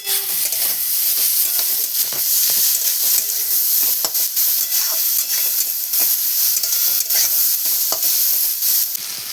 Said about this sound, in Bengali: এগুলো একসঙ্গে ভালোভাবে ভেজে নিচ্ছি।